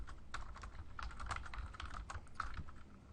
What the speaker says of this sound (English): So we're going to go ahead and type in meal plan